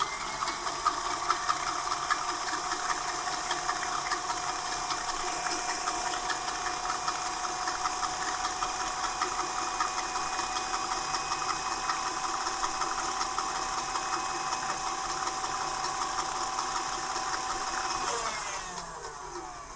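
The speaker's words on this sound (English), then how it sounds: "I'm going to show you how stiff we can get the egg whites without any of the cream of tartar" An electric mixer whips four egg whites with no cream of tartar, giving a steady, loud motor whir with constant beater rattle that continues unbroken and stops abruptly near the end.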